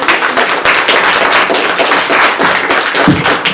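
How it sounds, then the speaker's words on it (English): A room full of people applauds at a Black History Media Festival, loud close clapping with distinct sharp hand slaps in a continuous burst throughout. "Let's give these folks a round of applause."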